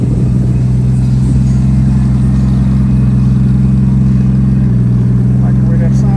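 A car engine at an outdoor morning car show cruise-in, a loud, steady low rumble up close that swells slightly toward the end, with people talking over it.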